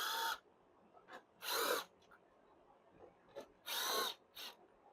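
A power drill runs in four short bursts, two longer and two quick, as it backs screws out of the underside of a Roomba s9/i series Clean Base dock. Close and fairly loud, with quiet pauses between.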